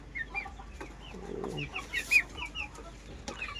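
Several large chickens, including a laying and a brooding hen, clucking close by, short irregular clucks and squawks overlapping at moderate volume against a low farmyard background.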